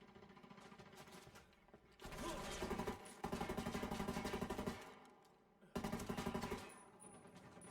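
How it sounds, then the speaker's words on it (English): Sustained machine-gun fire in the Tom Clancy's Ghost Recon video game, with loud rapid bursts in several long stretches separated by brief quieter gaps. "I'm shooting these fuckers."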